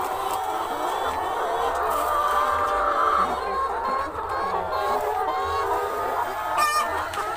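Laying hens in a poultry flock cluck and chatter continuously, with many overlapping bird calls blending into a steady, fairly loud din and a few sharper calls rising above it.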